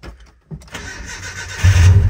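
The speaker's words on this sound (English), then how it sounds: "But what's the harm in starting it real quick?" A Nissan D21 Hardbody pickup fitted with a MegaSquirt standalone ECU cranks briefly and fires, then settles into a loud, rough idle close by, with no talking.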